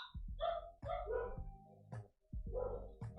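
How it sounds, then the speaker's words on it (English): Several household dogs barking excitedly in a home, repeated close yips and barks in quick bursts with a short pause midway, fairly quiet overall. "Dogs are going nuts here."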